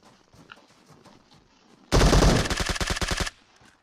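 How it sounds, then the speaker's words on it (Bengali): Rapid burst of gunfire from a Kar98 rifle in the PUBG video game, loud and sharp, a dense volley of cracks lasting over a second after quiet ambience. "যাকে আমি একটা হেডশট মেরে ট্যাগ করেছি কার-98 দিয়ে"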